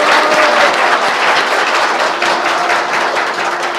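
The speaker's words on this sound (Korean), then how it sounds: "다시 한번 큰 박수 부탁드리겠습니다" Sustained applause from a seated audience at a Korean political talk program, steady dense clapping filling the whole moment at close, loud level with no speech over it.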